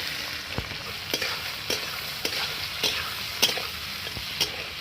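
Onion, garlic and bay leaf frying in butter and oil, with a steady close sizzle broken by regular scraping strokes of a spoon stirring the pan, roughly one every half second.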